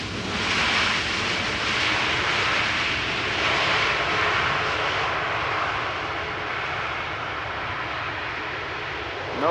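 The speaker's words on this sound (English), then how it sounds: "the next airplane is already getting quite close" A fixed-wing airplane on arrival at Amsterdam Schiphol Airport, a loud broad engine roar that stays strong and then eases slightly as it passes, no voices.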